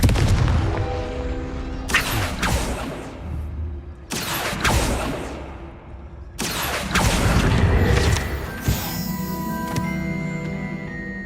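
In Hogwarts Legacy, the Confringo blasting curse goes off as a few loud, booming bursts spaced a couple of seconds apart, each followed by a rumbling decay and game effects.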